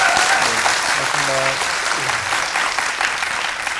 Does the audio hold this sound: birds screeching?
no